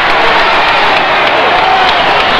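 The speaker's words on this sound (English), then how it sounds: "That screaming you hear is directed at Buddy Rogers, who likes nothing better than to draw the yells and the ire of the crowd" A wrestling crowd screams and yells at Buddy Rogers, a dense, loud, continuous roar of many voices filling the arena without a break.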